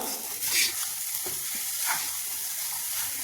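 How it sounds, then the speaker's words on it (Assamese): Grated coconut and sugar fry in a pan with a soft, steady sizzle, broken by occasional scraping stirs, faint and close with no talking. "নাৰিকল আৰু চেনি ভজা হৈ গ'ল"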